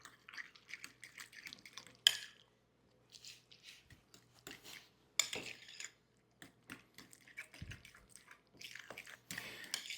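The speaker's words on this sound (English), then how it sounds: "And let's stir that together." Egg salad seasoned with pepper and salt is stirred in a bowl, producing quiet, scattered clinks and soft scraping strokes separated by near-silent gaps, close by.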